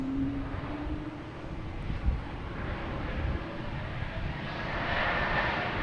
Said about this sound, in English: We have American Airlines heading to JFK, E175.